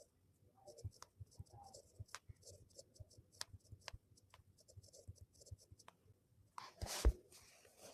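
Pen scratching out a definition on paper during a nursing lesson on hypoglycemia, a steady run of soft ticking strokes close up, with a louder rustle near the end.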